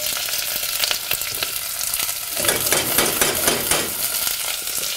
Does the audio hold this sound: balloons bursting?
no